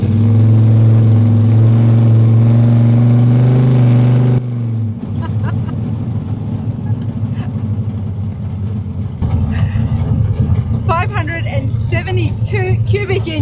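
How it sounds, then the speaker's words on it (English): A 572 cubic inch big block V8 with Holley EFI in a 1950 Ford F1 rumbles loudly, first a steady low drone, then an idling burble that swells again, with people talking over it. "the upgrade under the engine, is the reason that we can hear this beautiful rumble"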